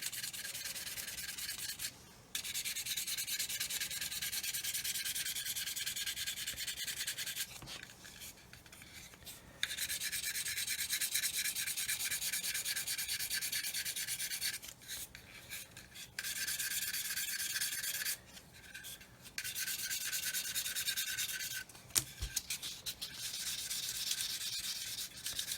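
Sandpaper rubbing back and forth over the plastic surface of an Eduard 1/48 Typhoon Mk.1b model kit, a steady close scratchy hiss broken by a few short pauses, with no talking.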